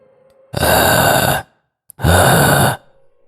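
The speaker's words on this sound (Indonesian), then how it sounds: "Sebuah suara berat seperti nafas dalam dan panjang terdengar dari belakang." Deep, long heavy breathing in a horror story setting, two drawn-out loud breaths separated by a short pause, close and breathy with no speech.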